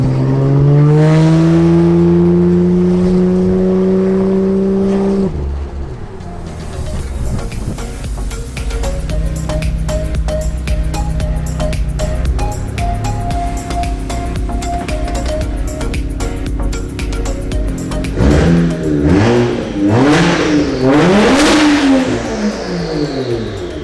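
A straight-piped Toyota Soarer with a 1JZ engine idles with a deep steady drone, then blips and revs in sharp rising bursts, loud and close with no talking.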